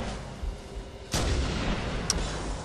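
A gunshot in Halo: Combat Evolved, one sharp loud report with a brief tail over quiet game ambience, followed by a faint second crack.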